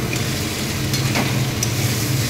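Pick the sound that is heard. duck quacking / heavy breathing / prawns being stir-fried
prawns being stir-fried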